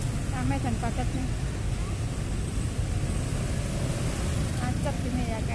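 Dense, congested street traffic in Malang, a steady broadband rumble of engines and road noise with faint horn-like tones drifting through, continuous and moderately loud, with voices talking over it.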